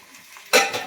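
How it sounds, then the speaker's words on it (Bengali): Fried cauliflower tipped into sautéed spice mix in a pan, a sudden short sizzle and stir close by after a quiet moment. "দিয়ে আমি ভালো করে মশলার সাথে কষে নেবো"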